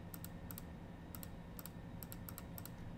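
Fingers type a password on a keyboard for a security camera recorder, producing close, faint paired keystrokes in an irregular rhythm across the whole stretch, with no talking.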